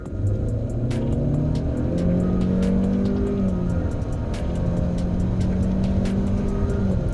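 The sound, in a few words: Honda Civic with CVT accelerating at full throttle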